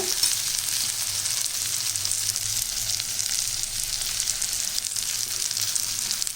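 Brinjal coated in masala frying in a pan, a steady, loud, close sizzle with soft stirring scrapes running continuously and no talk.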